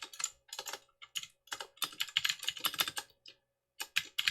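Rapid, crisp computer keyboard typing in clustered bursts with short pauses, close and fairly loud, no voices over it.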